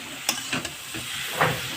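Turmeric and salt frying in a pan give a soft, steady sizzle with a few sharp stirring scrapes and spatula taps, close by and with no voices.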